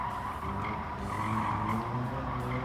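A race car in Gran Turismo 7 on a Tokyo Expressway touring car event, with a buzzing, droning engine note and a tyre-skid hiss, faint and thin as if picked up through a microphone.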